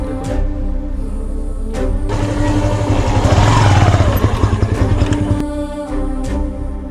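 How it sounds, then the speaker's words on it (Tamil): A motorbike engine rumbles steadily, growing louder as it approaches and revs up mid-clip, then fades slightly as it idles away. "பைக் சவுண்ட் கேட்குது"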